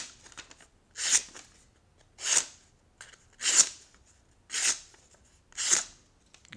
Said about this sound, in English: It cuts paper pretty well.